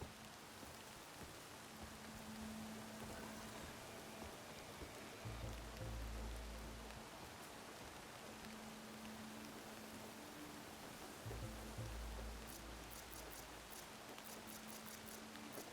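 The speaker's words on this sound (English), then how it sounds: "Rain's drowning out other sounds." Rain in the video game Horizon Forbidden West, a constant soft hiss of falling drops with faint low hums and a few brief ticking sounds over it, steady and even throughout.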